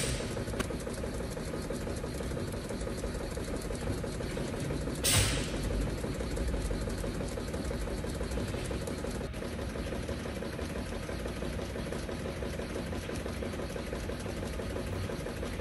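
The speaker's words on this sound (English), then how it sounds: "Here you'll see an example of an indexing conveyor." A Taisei Lamick indexing conveyor advancing cases on an end-of-line packing machine, a steady mechanical whir with regular fast clicking, plus a brief hiss burst early on and a sharp tick later, continuous and moderately loud.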